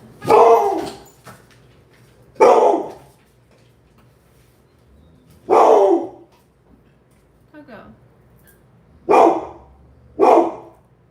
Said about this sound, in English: a dog is a great alarm